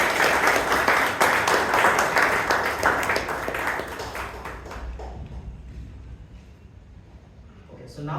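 An audience at a Bangalore Toastmasters Club meeting claps to welcome a new member, a sustained burst of applause that fades over several seconds into quiet room tone.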